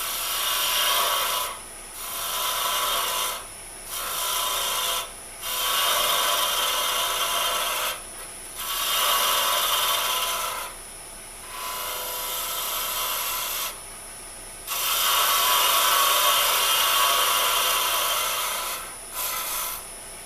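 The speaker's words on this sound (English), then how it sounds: "use it like a spindle gouge, and ride the bevel across here" A carbide woodturning tool cutting a spinning wooden workpiece on a lathe, riding the bevel like a spindle gouge, a loud steady hissing scrape that comes in bursts of one to three seconds with short pauses between passes.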